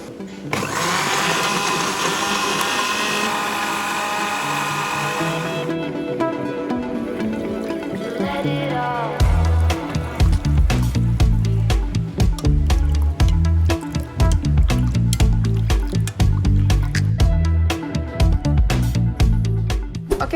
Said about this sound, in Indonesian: Dan kita sekarang siap untuk di blender.